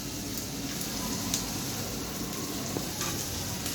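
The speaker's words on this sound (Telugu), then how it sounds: "పచ్చివాసన అల్లం వెల్లుల్లి పేస్ట్ స్మెల్ అంతా పోయే వరకు వేయించుకోండి." Ginger garlic paste with turmeric fries in a pan for an egg pulusu, giving a soft, steady sizzle with faint crackles at low level and no voices.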